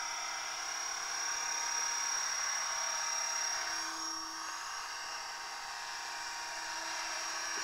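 An HK500GT radio-controlled helicopter flies with a high, whining rotor and motor buzz that holds steady throughout, easing slightly midway as it moves.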